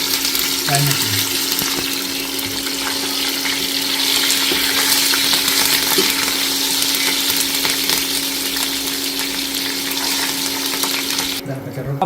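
Tempering spices sizzle in hot oil for a vegetable curry, a loud continuous crackle and hiss near the microphone with occasional stirring clinks and a steady background hum.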